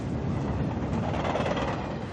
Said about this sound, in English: or a train up there.